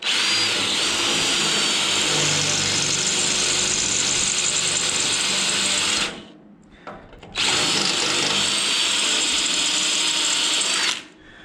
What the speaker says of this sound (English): I'm just going to drill those anyway.